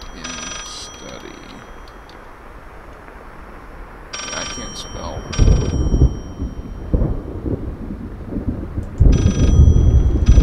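A telephone rings in a study in the horror video game Layers of Fear, repeated bursts of ringing over a rumbling thunderstorm and rain, loud and close, with a voice speaking briefly.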